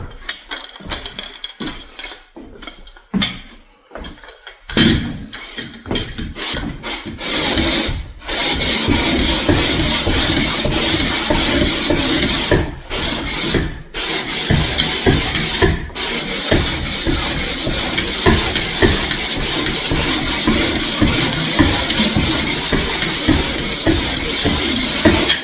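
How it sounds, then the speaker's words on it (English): A floor machine meant for wood floors grinds and scrapes steadily, roughing up a wood surface without sanding it, a loud continuous rough whir after a few halting starts. "This thing that's supposed to be for wood floors to kind of rough up the surface a little bit"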